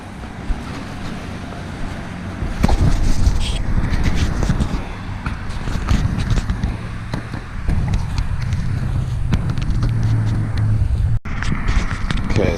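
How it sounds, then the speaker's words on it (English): A crashed truck's engine keeps running after the wreck, a steady low rumble with a continuous droning hum that stays fairly loud throughout, mixed with outdoor wind and road noise. "The truck's still running and it's leaking."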